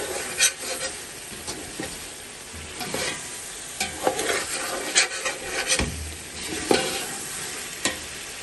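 Meat for biryani stirred and fried with masala in a pot, a continuous sizzle broken by repeated scraping strokes of a spoon against the metal, close and fairly loud throughout.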